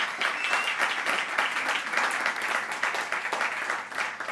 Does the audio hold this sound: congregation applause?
yes